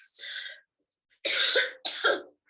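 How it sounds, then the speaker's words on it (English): A few sharp, harsh coughs close by: one burst, a brief pause, then two more in quick succession. "As soon as I start to talk, I get excited and I make myself cough."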